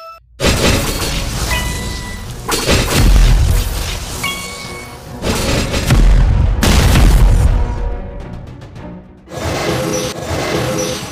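Guided missile clearing every same-colored tile in the mobile puzzle game Puzzles & Commander: a loud run of shattering bursts and booming blasts in repeated waves over game music, with sparkling crashes between them.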